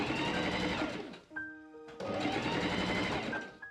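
A sewing machine stitches two rows of gathering stitches along the top and bottom of sleeve pieces for a Victorian teagown, running loud and steady with a brief pause mid-way before resuming.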